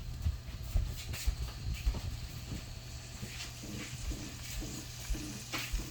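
Turkey sizzles and fries in a pan over high heat, a steady crackling hiss with scattered sharper pops and stirring scrapes, loud and close with no talking.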